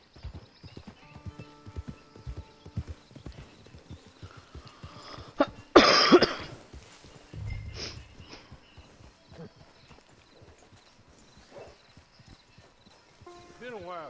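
Hoofbeats clip-clop from a horse in Red Dead Redemption 2, rhythmic at first, broken by a loud burst and a cough, then slowing under light talk and a brief whinny-like rise near the end.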